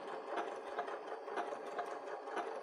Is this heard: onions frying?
no